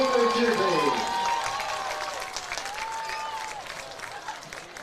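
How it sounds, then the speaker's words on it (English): Crowd applause and cheering at a high school football game for a youth football and cheer team, steady broadband clapping across the whole stretch with voices and whistling-like shouts on top. "Let's give it a big round of applause for our Whitehall Youth football team and cheer team."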